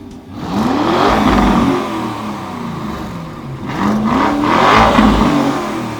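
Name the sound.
car engine revving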